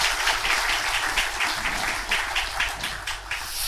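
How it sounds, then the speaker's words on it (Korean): A church congregation at a Korean Sunday service breaks into applause, a full, sustained patter of many hands filling the room with a faint low hum beneath it. "우리 늘 건강하시라고 격려의 박수 한번 하겠습니다."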